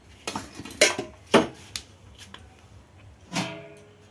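A metal wok is lifted and handled, producing a few sharp metallic clanks and scrapes at irregular moments, fairly close, with no talking.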